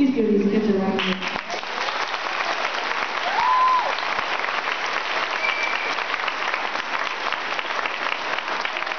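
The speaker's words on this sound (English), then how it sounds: "Please give these kids a round of applause." Audience applause for middle school chamber orchestra students at a school concert, a steady broad wash of many hands clapping that holds for several seconds, with a brief voice or tone near the start.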